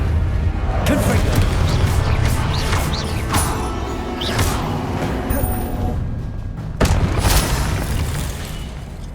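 Fiery blasting spell cast repeatedly in the Hogwarts Legacy video game, giving loud booming explosive bursts with crackling impacts over a dense, continuous game soundscape.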